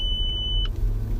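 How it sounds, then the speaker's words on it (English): A car's warning chime sounds as it starts up, alerting to low antifreeze and gas: one sustained high beep for about half a second over a low idling rumble, then it cuts off. "my car is gonna make a whole bunch of beeps because I'm gonna start it up"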